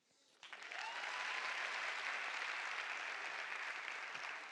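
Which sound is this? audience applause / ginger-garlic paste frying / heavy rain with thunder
audience applause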